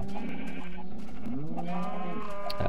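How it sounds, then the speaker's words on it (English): White sheep in Minecraft bleat several times in a row, close by and fairly loud, with wavering, nasal cries and brief gaps between them. "Over here is white sheep."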